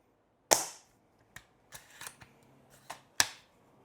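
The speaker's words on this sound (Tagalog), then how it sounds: "Kung mapapansin nyo, napakatahimik ng mga bolt action na sniper" Sharp, quiet pops from an airsoft bolt-action sniper rifle, two crisp shots about three seconds apart with softer mechanical clicks between them, heard alone and up close.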